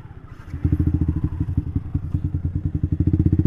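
Yamasaki ZX 636 motorcycle on a road test ride, its engine starting low then jumping into a loud, steady, rapidly pulsing idle-to-rev throb close by, with no talking.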